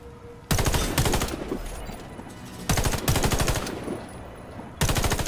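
Automatic weapon fire in the video game Warface, loud rapid bursts of shots in three long strings separated by brief pauses, over a constant game background with no talking.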